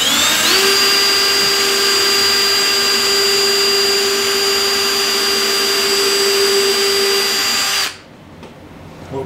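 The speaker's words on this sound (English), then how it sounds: "I put a few pilot drill holes in here" A power drill bores pilot holes for screws into wood while building a deck or patio flower planter, a loud steady high whine for about seven seconds that cuts off abruptly, leaving quiet room noise.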